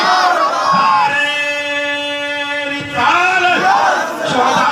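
A massed crowd at a Shaheed-e-Karbala religious conference in Vaishali roars the Takbeer chant, with a long sustained unified cry in the middle framed by bursts of loud, overlapping shouting.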